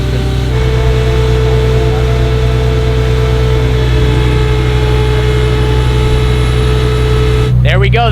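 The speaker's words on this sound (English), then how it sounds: "he's flooring the gas to lift the crane" A G-Wagon engine held at high revs to power a crane lift, producing a loud, sustained droning roar with a steady pitch, and a voice talking over it near the end.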